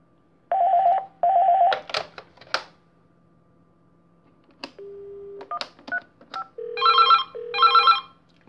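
Panasonic KX-NS500 IP-PBX phone system: DTMF-style beeps and short tones, then a loud electronic ring in two bursts near the end, heard alone without talk.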